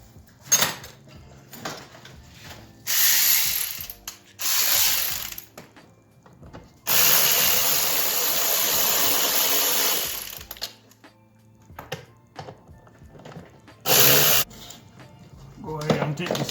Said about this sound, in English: You know what? I'm gonna get my power tool and take it out fast.